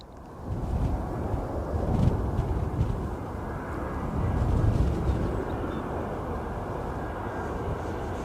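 British Airways airliner at Edinburgh Airport, a steady broad rumbling roar of jet engines with wind buffeting, swelling and easing slightly as it passes, no talking.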